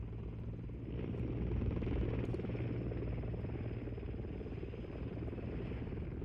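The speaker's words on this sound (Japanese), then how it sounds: "ヘリ呼びたいんだけど、ずっとヘリ乗ってる。" Helicopter in the game Call of Duty Modern Warfare III, a steady loud rotor drone with engine buzz holding continuously throughout, with no clear talk over it.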